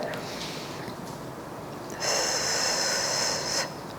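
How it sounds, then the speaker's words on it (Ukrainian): Breathing during a pelvic floor exercise: a soft airy exhale, then a louder, sharper breath through the nose lasting over a second, close to the mic in a quiet room. "Чотири дихайте."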